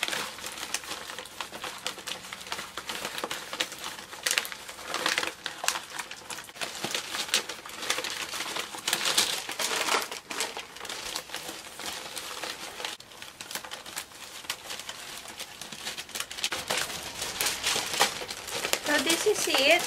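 Sheets of paper are crumpled and crinkled by hand while making a homemade Halloween costume, a dense, continuous rustle close to the ear with occasional sharper crackles.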